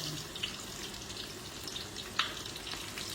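Salted fish frying in a pan of oil, a faint, steady sizzle with occasional soft pops and crackles, heard close and without voices.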